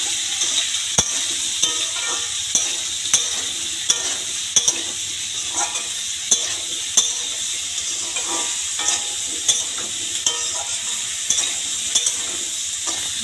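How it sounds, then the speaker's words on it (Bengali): Drumsticks and potatoes stir-fried in a pan with turmeric and salt, a steady bright sizzle broken by regular scraping knocks of the spoon against the pan, close and alone. "এবার এটাকে নাড়তে থাকবো।"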